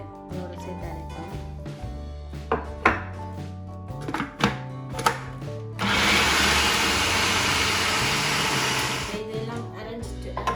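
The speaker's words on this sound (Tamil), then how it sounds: "இதோட இஞ்சி, உள்ளி சேர்த்துட்டு இதோட சேர்த்து அரைப்போம்." A mixer grinder grinding ginger and garlic for Sri Lankan pakoda starts up after some clinking and tapping, then runs as a steady, loud whirring roar for several seconds before slowing.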